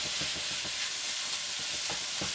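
Hamburger and chopped onions fry in a skillet, a loud, continuous sizzle broken by soft rhythmic scraping and stirring taps, with no voices.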